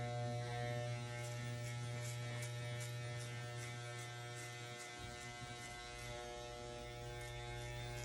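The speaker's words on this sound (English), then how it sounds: "I'm rotating the clipper from the left to the right, back and forth" Electric hair clipper running continuously while cutting a child's fade with guards, a close, steady buzzing hum with faint scraping texture as it is rocked back and forth through the hair.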